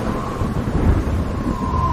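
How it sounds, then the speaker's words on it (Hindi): Heavy rain pours in a continuous dense rumble, with a low thunder roll beneath it and a steady tone running through it. "ये तो तेज बारिश शुरू हो गई है"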